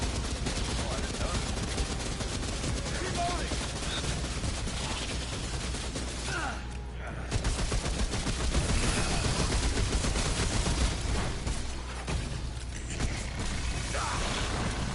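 Defensive turrets in the Remnant: From The Ashes video game, in a swamp area, firing steady rapid bursts of gunfire amid mechanical clatter, continuous and fairly close, with players talking over it.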